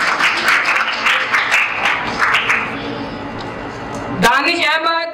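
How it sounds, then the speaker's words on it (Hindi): Clapping from an audience at a school results and position-holders ceremony, a dense, steady round that carries on under someone speaking over a public address system, then stops abruptly as the speaking continues. "एट स्टार के लिए तालियां बजा दें"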